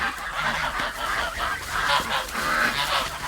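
Rural farmyard geese, kept alongside ducks and piglets, honk repeatedly in overlapping bursts at close range with no talking.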